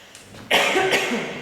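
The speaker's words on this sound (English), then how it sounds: "It's making me cough, sorry." A single close, harsh cough in two quick bursts during a face massage, loud and abrupt after a brief moment of quiet.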